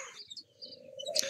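Small birds in an aviary chirp and tweet faintly, with a soft cooing undertone and a brighter chirp near the end, all distant and quiet.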